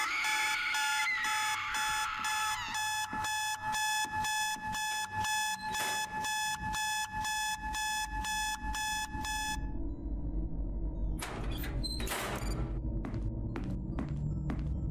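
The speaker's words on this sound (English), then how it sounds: "I don't want to be used as your alarm clock anymore." A loud, rapid electronic alarm clock rings in repeated bursts in the horror game House of Torment, then stops and gives way to low rumbling ambience and a few sharp clattering sounds.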